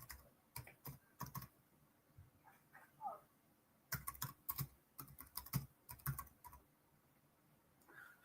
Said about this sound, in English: Just going to type that in here.